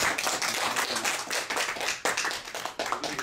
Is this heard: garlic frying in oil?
no